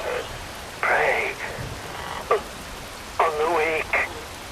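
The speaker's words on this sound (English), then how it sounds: "Rain falls." Steady rain hisses in Metal Gear Rising: Revengeance on PlayStation 3, a soft constant patter under short bursts of a voice speaking.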